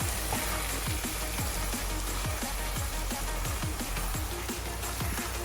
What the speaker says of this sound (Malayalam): ഇനി നമുക്ക് നല്ലതുപോലെ ഒന്ന് ഇളക്കി യോജിപ്പിച്ച്